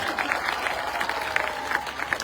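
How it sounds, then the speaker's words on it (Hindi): A crowd in Dausa, Rajasthan claps steadily at a political gathering, dense applause with scattered louder claps throughout. "मैं उनको प्रणाम करता हूं, ताली बजाओ।"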